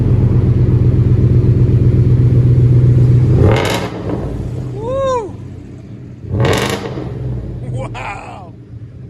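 A Ford F-150 with a 5.0L Coyote V8 and Flowmaster Flow FX exhaust idles with a deep, loud rumble, then revs up hard twice in quick bursts that fall away, with a brief cheer from a voice between revs.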